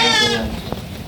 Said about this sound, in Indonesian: itulah dia domba ini